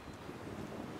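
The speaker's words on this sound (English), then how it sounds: "Oh man, that is windy." Strong wind buffets a microphone outdoors at a crossbow shooting range, a steady close roar with no talk.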